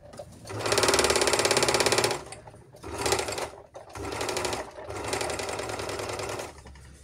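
A Panavox Overlock 482 overlock sewing machine with a broken looper hook runs in loud, steady bursts: a long stretch of fast mechanical stitching, a short burst, then another sustained run, with no talk.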